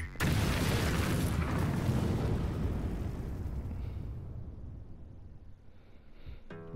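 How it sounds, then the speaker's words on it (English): A massive in-game explosion in the fighting game Tekken 7 erupts as a loud, deep boom that rolls on and slowly fades over several seconds, with a sharp burst near the end. "Massive explosion."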